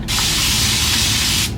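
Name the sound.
spray bottle spraying water on hair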